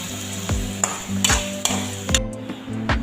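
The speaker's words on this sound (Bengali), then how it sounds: "এখন মাংস অনবরত কষাতে থাকব।" Chicken meat stirred and fried in a pan for a home-style curry, with a steady sizzle broken by several sharp scrapes and clanks of the spoon, close and alone.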